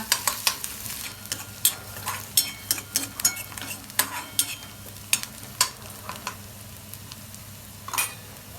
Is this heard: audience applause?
no